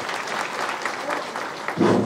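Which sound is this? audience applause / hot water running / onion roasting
audience applause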